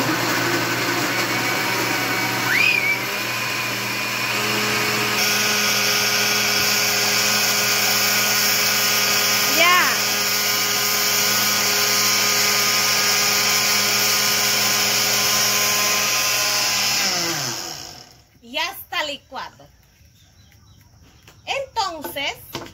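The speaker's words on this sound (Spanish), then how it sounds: "Se le tapa y se le licúa." A kitchen blender purées a green plantain drink, a loud, steady motor whine that holds for about seventeen seconds and then cuts off, leaving light clatter as the jar is handled.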